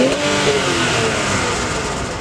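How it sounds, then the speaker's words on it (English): An Infiniti Q60 Red Sport 400 twin-turbo engine revs and roars close by, a steady throaty exhaust note that holds and slowly eases, with no talking. "to really tune the exhaust note and make it sound good"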